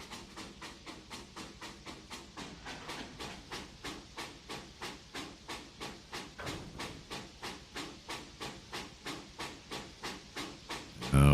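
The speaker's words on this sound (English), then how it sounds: "Can't imagine being in this business right here with these trains coming by like this. It's got to be really loud." Train cars rolling past in the Trainz 2019 railroad simulation on the C&O Hinton line, a steady rapid clickety-clack of wheels over rail joints with hissing noise, loud and close throughout, with no talking.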